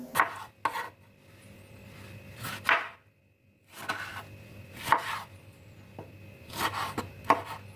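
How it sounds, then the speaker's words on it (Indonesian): A knife dices a red tomato into medium cubes on a cutting board, in short bursts of quick, crisp, close chopping taps separated by brief pauses. "Satu buah tomat merah dipotong dadu sedang seperti ini."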